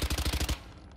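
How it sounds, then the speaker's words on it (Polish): Spectre SMG from Valorant fires a rapid burst of about six evenly spaced shots, punchy and close, followed by a short fading tail. "Kolejne SMG to jest Spectra."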